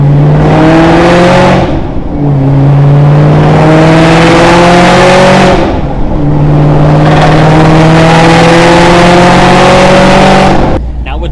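A Shelby GT500 with a dual overhead cam V8, long tube headers, an X-pipe and Ford Racing axle-back mufflers roars loudly up close. The engine note climbs through several revving pulls, with brief dips between them.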